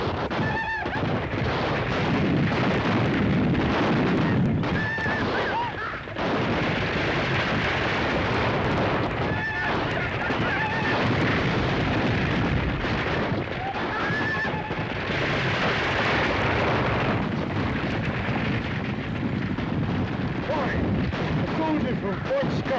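Old western film shootout with gunshots booming over constant dense action noise, horses neighing and hoofbeats mixed in, loud and continuous throughout.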